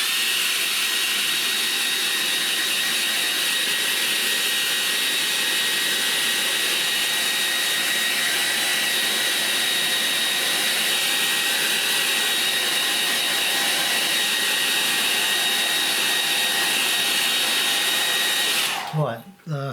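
A hair dryer blows steadily and loudly close by, drying a painting of trees by a stream, a continuous whooshing whine that cuts off abruptly near the end.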